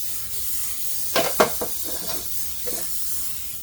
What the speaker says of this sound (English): either spray it with a vegetable oil, or you can use Crisco or whatever oil you have